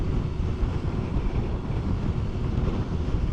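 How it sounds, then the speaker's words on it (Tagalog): Strong mountain wind roars in heavy, buffeting gusts against the microphone, a steady low rumble with no other sounds. "Taas ang hangin. So hindi tayo makapag-drone dito."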